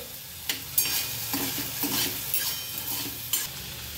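Chopped garlic and peas fry in an iron kadai with a steady close sizzle, broken by several sharp scraping clinks of a spatula stirring against the pan; no voices.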